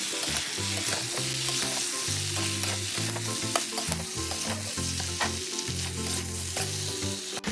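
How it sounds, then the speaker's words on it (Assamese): Desi chicken curry frying in a pan, a steady loud sizzle broken by repeated scraping stirs, with some musical tones underneath and no talking. "আকৌ ভাজিম এতিয়া 10-15 মিনিট ঢাকনা দি"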